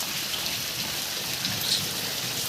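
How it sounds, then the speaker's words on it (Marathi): Steady rain falls in the Konkan region, a dense, continuous hiss of drops on surfaces with a low rumble underneath, even and unbroken throughout. "अजून पाऊस थांबला नाही."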